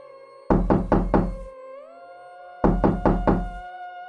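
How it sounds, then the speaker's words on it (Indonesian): Hard knocks pound on an old wooden house door, two bursts of four heavy, evenly spaced blows separated by a short pause, loud and close with a low eerie tone sustained beneath. "Pintu rumah diketuk keras."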